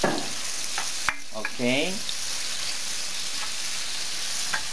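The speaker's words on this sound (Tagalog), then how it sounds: "igigisa na muna natin ang pork hanggang maluto siya" Pork sautés in a pan for pinakbet, a steady sizzle with brief stirring clatters, and a voice speaks briefly over it.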